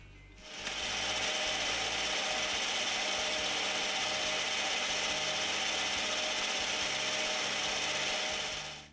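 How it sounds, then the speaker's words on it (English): A metal lathe parts off a small turned piece, giving a steady, even high-pitched cutting whir that holds for several seconds at moderate level without talk, then stops at the end. "Then all I need to do is part it off, flip it in the chuck, and repeat on the other end to match."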